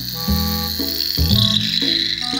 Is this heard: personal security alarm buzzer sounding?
yes